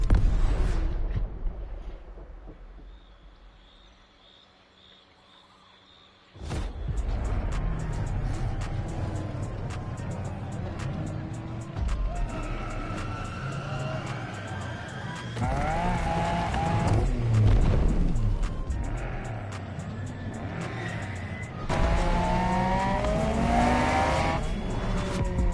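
A Honda NSX race car in a video game, engine revving and roaring loudly after a quiet opening, with rising and falling pitch as it accelerates and shifts, plus occasional tire squeal.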